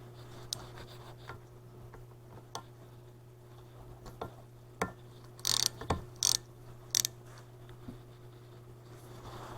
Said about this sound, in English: I'll go back with a socket and my Torx bit and tighten them on down